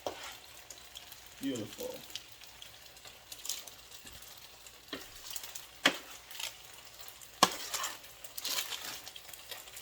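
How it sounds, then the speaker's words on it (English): Shrimp and roasted vegetables stirred into fettuccine in a hot pan, with a soft, steady sizzle, scattered clinks and scrapes of a utensil against the pan, and a brief spoken word. "Just gonna transfer all the shrimp and veggies right to this pasta."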